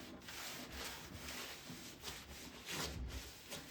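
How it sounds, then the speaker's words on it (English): A wire wheel scrubs grime off bolt heads on an old Space Encounters arcade game cabinet, a continuous harsh abrasive rasp with slight pulsing surges, close and steady for the whole stretch. "I'm going to go clean up those bolt heads real quick."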